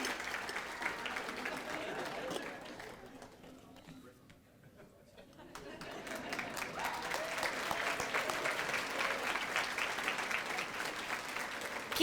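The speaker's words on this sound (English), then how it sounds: "Keep that round of applause going for Toby, not only for his accomplishments," An awards ceremony audience applauds, dense clapping that thins and dips near the middle before swelling back to a full, sustained round.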